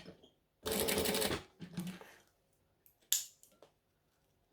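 A sewing machine stitches a bag strap in a short burst of under a second, followed by scattered clicks and handling noises. The clip is quiet, with light talk in places.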